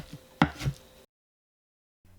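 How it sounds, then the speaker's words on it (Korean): A knife cuts blanched seaweed into bite-size pieces on a board: one sharp, loud chop followed quickly by a softer second cut, then silence and a faint tap at the end. "미역은 최대한 물기 없게 꽉 짜서 준비하고 한입 크기로 썰어주세요"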